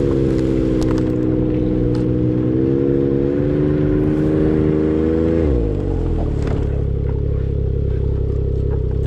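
A Ski-Doo Expedition Extreme 900 Turbo R snowmobile engine runs close and steady, its pitch rising as it shifts and revs, then dropping into a deeper rumble as the sled pulls away through snow.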